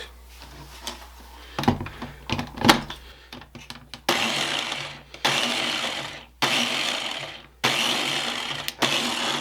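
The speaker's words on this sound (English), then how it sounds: "we're just going to put it in our Ninja here just to mix it real quick" A Ninja blender mixes pie crust ingredients, sugar among them, for a chocolate pie. It runs in four short, loud whirring pulses with brief pauses between them, after some quieter clattering at the start.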